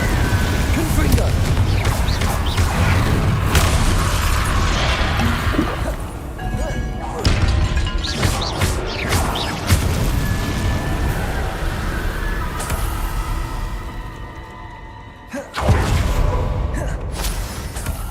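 Blasting-spell explosions in a video game, with repeated loud thuds and crashing booms over a dense, busy mix of game noise, one short drop in level near the end before the bursts resume.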